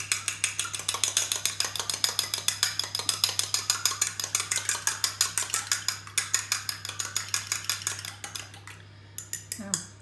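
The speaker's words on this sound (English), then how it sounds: "I'm just going to use my fork to whisk up this egg." A fork whisking an egg in a bowl, a fast, even rhythm of clicking metal taps that runs steadily for about eight seconds before slowing and stopping, close by, with no talking.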